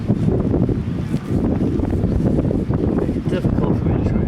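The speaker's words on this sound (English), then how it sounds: "Now we got a gust of wind." Outdoors, wind gusts buffet the microphone in a dense, rumbling roar that stays loud and steady throughout, with a person talking underneath.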